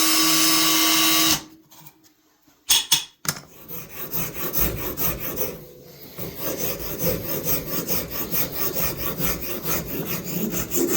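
Wooden knife handles are trimmed to a tight fit with rhythmic rasping and sawing strokes, close and continuous, after a brief machine hum that cuts out at the start.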